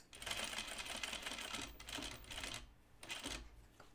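A sewing machine stitches through denim on a pair of jeans, its quick rattling bursts fairly close and quiet, pausing briefly between short runs.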